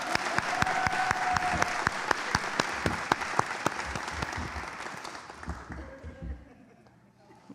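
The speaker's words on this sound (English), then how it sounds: "Everyone give him a round of applause." A crowd at a Gwinnett County citizens academy graduation gives the Gwinnett Stripers mascot Chopper a round of applause, dense sustained clapping that gradually thins and fades out toward the end.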